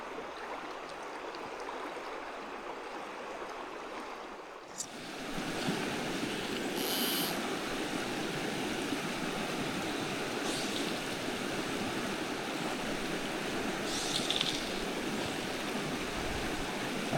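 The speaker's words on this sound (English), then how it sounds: "That wide, flat river turns into this little stream right here." A small mountain stream flows in a canyon, a steady broadband rushing and babbling of water that swells in after a few seconds and then carries on evenly and close.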